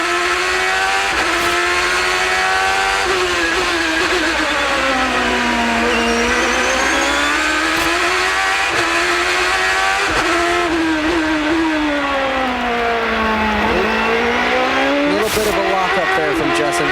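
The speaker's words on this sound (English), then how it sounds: "we're on board with Justin Wilson" A Champ Car racing around the 2007 Long Beach street circuit, recorded on board: a loud, continuous high-revving engine that climbs and drops through gear changes for the whole stretch, with commentators talking over it.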